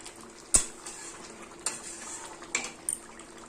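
Shrimp curry with jackfruit is stirred in a pan, a low steady simmer broken by a few sharp scrapes and clinks of a spoon against metal, close and fairly quiet.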